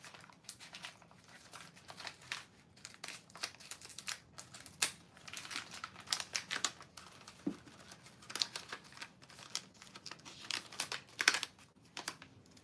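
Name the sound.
ripping open guitar string packaging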